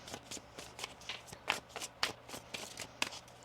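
Tarot cards being shuffled by hand at close range, a quick series of soft riffling and slapping bursts in a fairly regular rhythm, quiet and alone.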